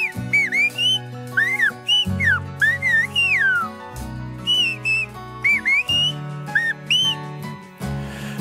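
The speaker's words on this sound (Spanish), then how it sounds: "vos saludo con el silbo" A woman from La Gomera whistles a message in Silbo Gomero, the island's whistled language, in loud, sharp, gliding phrases broken by short pauses over a steady musical backdrop.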